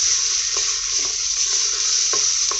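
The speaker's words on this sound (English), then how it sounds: "Give them a good stir in." Tomatoes sizzle steadily in a hot pot with beef while a utensil stirs, with a few soft scraping knocks at irregular intervals.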